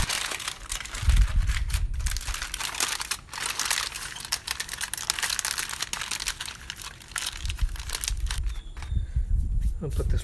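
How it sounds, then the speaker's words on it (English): Aluminium foil crinkles and crumples loudly up close as it is wrapped tightly around smoked pork ribs, with irregular bursts of rustling and crushing throughout. "Then we're going to tightly seal this in foil."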